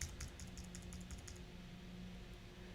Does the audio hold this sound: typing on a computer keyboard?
yes